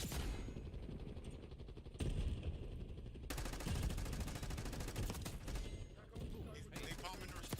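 Gunfire in the video game Black Ops 6, rapid automatic bursts and repeated shots rattling in quick succession with a player talking over the action.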